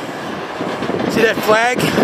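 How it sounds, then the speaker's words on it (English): Freight train moving out of a rail yard, a steady broad rumble of rail cars rolling throughout, with someone talking briefly over it near the end. "Holy moly, we got a train pulling out."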